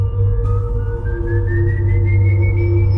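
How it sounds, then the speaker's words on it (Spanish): A thin, steady whistle rises slowly in pitch over a low droning background, sounding distant and eerie, with no talking. "escuches un silbido en la distancia"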